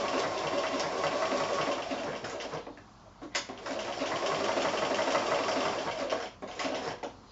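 Domestic sewing machine running a blanket stitch around fused applique, a steady whirring motor hum broken by a couple of brief pauses, close and unaccompanied by speech.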